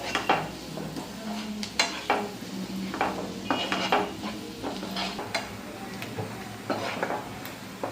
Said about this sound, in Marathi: 2-3 चमचे त्यात बेसन ऍड केले आणि हे व्यवस्थित फ्राय करून घेते.